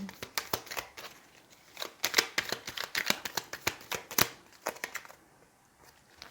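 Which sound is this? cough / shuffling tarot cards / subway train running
shuffling tarot cards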